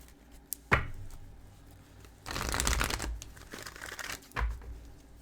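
Tarot cards are shuffled close by, with a sharp snap, a burst of riffling, and a final quick flick, alone in a quiet room.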